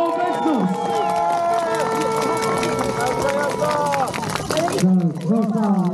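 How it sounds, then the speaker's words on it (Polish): Spectators cheer and clap along the course of the elite men's race at the 2023 European MTB Championships, a dense crowd roar with whistles under a steady announcer's voice, cutting off sharply near the end as the commentary continues alone. "dajmy brawa, dajmy wsparcie, niech czują Państwo obecność!"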